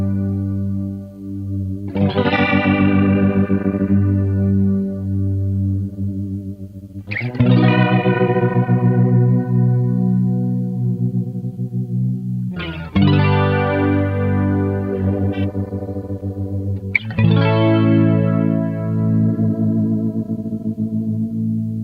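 An electric guitar played through a Digitech Nautila chorus flanger pedal rings out four separate strummed chords, each swirling and shimmering as it slowly decays.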